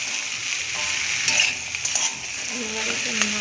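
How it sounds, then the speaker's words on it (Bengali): A spoon scrapes and stirs chana masala with potatoes in a pan, with a soft sizzle underneath and a few clinks against the metal. "এবার একটু নাড়ব"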